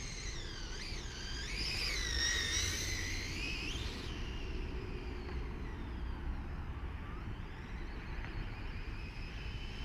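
Traxxas 4-Tec 2.0 brushless RC car with upgrades running at half throttle, a high whining motor that rises and falls in pitch as it accelerates, then fades into a lower, more distant drone over steady background rumble.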